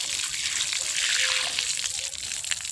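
Water running steadily from a tap at a temple washing area, a continuous close hiss with a voice faintly underneath.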